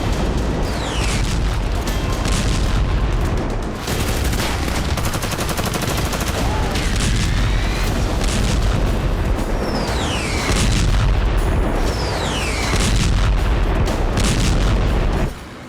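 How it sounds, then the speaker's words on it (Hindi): Artillery shelling and gunfire pound Khan Younis in Gaza, a dense, loud barrage of booms and blasts rolling continuously, with occasional whistling sweeps cutting through the din. "बेहद ही प्रचंड अंदाज में आईडीएफ खान यूनिस पर गोला बारूद बरसा रही है।"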